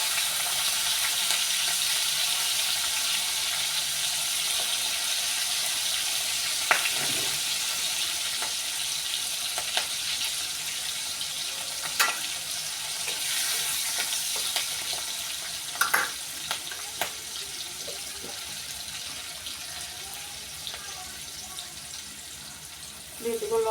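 Black cumin seeds and chili tempering frying in hot oil in a home kitchen, a steady broadband sizzle with a few sharp crackles and pops scattered throughout, close and continuous.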